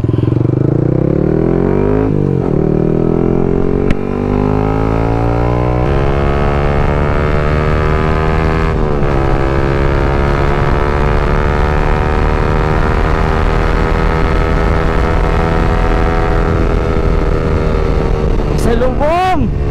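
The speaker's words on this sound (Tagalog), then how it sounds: "Try natin tong motor ni Boss Vic." Yamaha XSR 155 motorcycle riding through Kaybiang Tunnel, its engine loud and close, revving and shifting with rising and falling pitch that echoes off the tunnel walls throughout.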